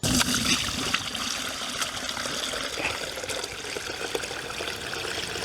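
Liquid grass fertilizer strained through a mesh cover into a bucket, making a steady close trickling and pouring sound with light splashes that run continuously and alone.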